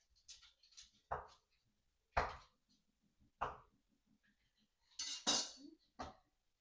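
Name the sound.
knife slicing seafood boil ingredients into inch chunks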